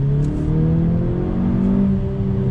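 A 2020 Honda Civic Si accelerates in first gear, the engine tone rising steadily in a loud, close whir before easing off near the end.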